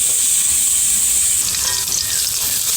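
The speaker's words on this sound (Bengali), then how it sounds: "এইবার পেঁয়াজ আর কাঁচা লঙ্কাটাকে ভাজা ভাজা করে নেব একসঙ্গে।" Onion and green chillies frying together in a pan, giving a loud, continuous hissing sizzle with light stirring throughout.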